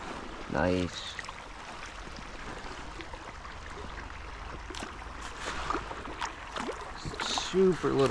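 A small trout brook flows steadily nearby with a soft continuous trickle and babble, while voices talk briefly over the water.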